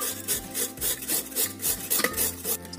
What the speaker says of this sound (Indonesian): Setelah kita serut halus seperti ini gulanya